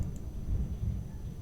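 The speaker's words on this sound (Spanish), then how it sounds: "me disculpan los truenos aquí, pero ya de noche empezó a llover" Low thunder rumbles through nighttime rain, a faint, distant, continuous roll lasting about a second and a half with no voices over it.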